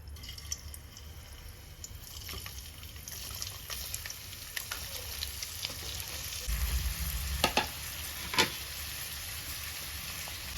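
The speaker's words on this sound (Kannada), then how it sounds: "ಸೊ ಎಣ್ಣೆ ಕಾದಿದೆ ಈ ಟೈಮಲ್ಲಿ ಇದಕ್ಕೆ ಒಂಚೂರು ಈರುಳ್ಳಿ ಸೇರಿಸ್ಕೊಳ್ತಾ ಇದ್ದೀವಿ" Chopped onions sizzle and crackle in hot oil in a home kitchen, cooking for a samosa filling. A steady close frying hiss runs throughout, with occasional stirring scrapes and a few sharp pops near the end.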